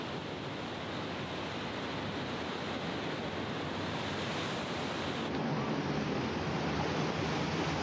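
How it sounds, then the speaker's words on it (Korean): Huge lake waves pound a cliff in a steady, dense roar of surf with wind noise, loud and continuous throughout with no voices. "엄청난 파도가 절벽을 계속 두드리며 설원처럼 펼쳐진다."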